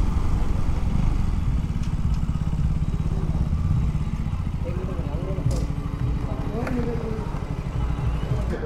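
A motorcycle idles at a fuel stop, its engine a steady, even rumble throughout, with faint clatter and occasional background sounds.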